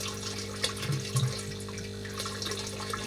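Water trickles and gurgles through a homemade budget aquaponics setup, a steady continuous flow with a few brief surges, fairly close and without voices.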